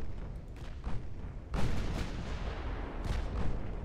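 Naval guns in Ultimate Admiral Dreadnoughts firing on French ships: deep booming salvos over a rumbling low roar, with heavy blasts landing near the start, around the midpoint and again toward the end.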